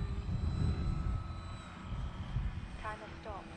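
A small propeller airplane hums steadily with engine drone while coming in to land, close and continuous, with faint chirpy tones near the end.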